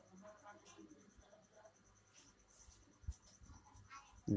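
Pen or pencil writing out a math solution on paper, soft scratchy strokes coming in short bursts, fairly faint and close, with a few light taps.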